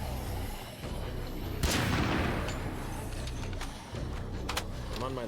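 Gunfire in the zombie survival video game State of Decay 2: a loud burst of shots followed by scattered single reports and game noise, with a steady background bed under them.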